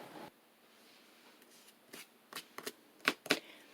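Paper being trimmed for a DIY traveler's notebook insert: soft scraping and a few quick crisp cutting strokes close up, quiet and ending in a couple of sharper snips.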